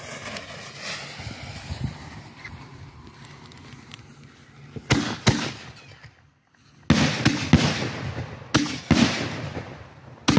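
Consumer-grade 1.4 pro aerial firework shells bursting outdoors, several sharp booming explosions and crackling bursts clustered in the second half, with a low rumble and wind noise before a brief quiet gap.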